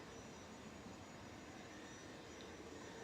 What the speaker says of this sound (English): Air France. Coming in from Paris, A320 200 FGKXM.